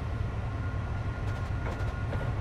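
A Class 70 diesel freight locomotive in Train Simulator 2017 rumbles steadily with a deep engine drone and faint rail clatter, close and continuous throughout.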